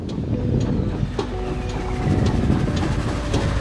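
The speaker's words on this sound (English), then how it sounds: "sound of a steam train provided us with a moment of respite as it roared past us" A steam train rumbles steadily past close by along the River Severn, a low continuous roar with faint rhythmic clatter and wind buffeting, no voices.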